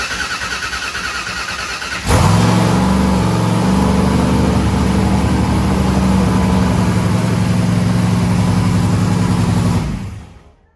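Turbocharged engine firing on its first start after a short cranking whir, then settling into a loud, steady high idle for several seconds before cutting off, no talking.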